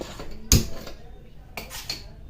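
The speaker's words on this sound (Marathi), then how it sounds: "इथे कढई तापायला ठेवायची" Two sharp metallic clanks, the first louder, as a heavy wok (kadhai) is set down on a stovetop to heat, with faint kitchen noise between them.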